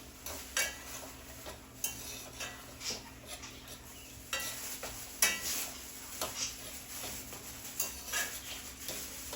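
A Jamaican breakfast fry-up cooking in a pan, a steady soft sizzle under repeated clinks and scrapes of a utensil stirring against the pan, fairly faint and close.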